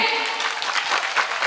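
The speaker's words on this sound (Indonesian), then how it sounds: "monggo tepuk tangan riyen" A crowd at an Indonesian religious gathering in Karangsoko, Trenggalek claps, a dense, fairly loud run of applause with a faint hint of voices beneath.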